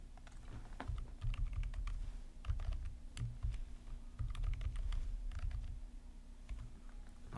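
Computer keyboard typing in bursts of quick, close, moderately loud keystrokes while a username and password are entered during an account registration, with short pauses between runs of keys and no talking.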